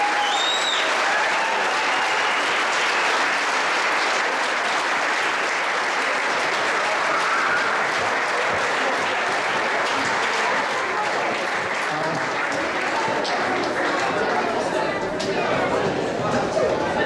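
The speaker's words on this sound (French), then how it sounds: "On peut les applaudir toutes très chaleureusement" An audience at a school graduation ceremony gives sustained, warm applause, dense and even throughout with some faint chatter mixed in.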